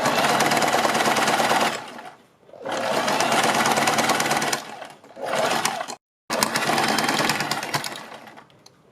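An electric sewing machine stitches a kurti neckline in rapid mechanical bursts, three or four runs of dense clatter separated by short pauses, close and loud with no voices.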